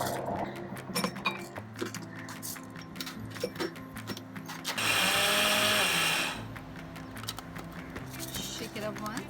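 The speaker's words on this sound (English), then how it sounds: "we need to grind our rice" A kitchen grinder whirs loudly in one burst lasting about a second and a half, grinding whole rice, amid clattering, handling noises and speech before and after.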